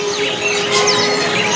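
Zebra dove (perkutut) in a cage at a bird shop kiosk, with faint soft chirps and calls over a steady, busy background of other birds, fairly distant and continuous throughout.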